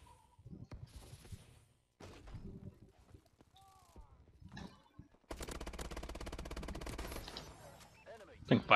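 Bal Inferno gun fired in rapid bursts in the video game Advanced Warfare, heard as short scattered shots, then a long, loud stream of fast automatic fire. Someone talks over the firing.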